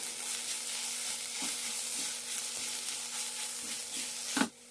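Turmeric, chili powder, garam masala and pepper powder are stirred into a sizzling masala in a pan for a mutta pori egg snack. It gives a steady, close frying hiss with soft periodic scrapes and a sharper scrape at the end.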